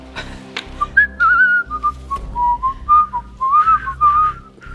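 Someone whistling a wavering, uneven tune in short breathy bursts, close up, with pitch sliding around as though struggling to hold notes.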